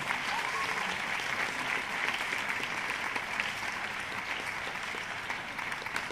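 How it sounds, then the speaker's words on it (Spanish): Audience at an awards gala for film writers applauding steadily, a dense, even wash of clapping from a large crowd that holds at a constant level throughout without pause. "¡Fuerte aplauso! ¡Fuerte aplauso!"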